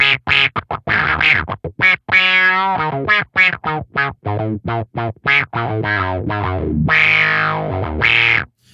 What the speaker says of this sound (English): So as you can hear, it's definitely doing that auto wah thing.